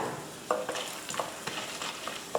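Crackling and popping of peanuts and chana dal lentils frying in hot oil in a kadai, with scattered sharp sputters over a low sizzle.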